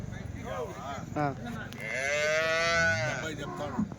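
Cow at the Punganur weekly cattle market in Andhra Pradesh lowing in one long, loud, drawn-out moo, with busy market chatter and crowd noise around it.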